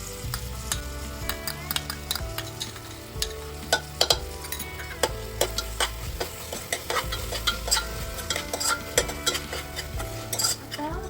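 Onion, tomato and ginger-garlic paste with garam masala frying in a pan for chicken yakhni pulao, a steady close sizzle broken by repeated sharp clinks and scrapes of a spoon stirring against the metal.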